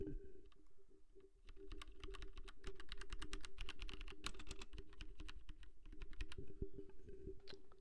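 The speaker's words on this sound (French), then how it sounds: "C'est un très bon clavier avec des switches marron qui font vraiment le taf de fou" Drevo mechanical keyboard with brown switches being typed on, a fast, continuous run of close, crisp keystroke clicks with a soft underlying hum, fairly quiet overall.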